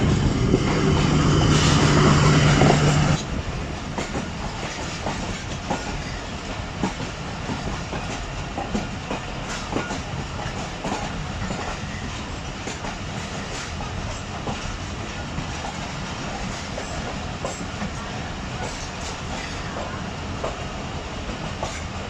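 Aboard the 122 Down Ravi Express between Lahore and Shorkot in hot weather, the train rumbles along the rails with steady clickety-clack. A louder rushing burst at the start fades into a continuous track rhythm.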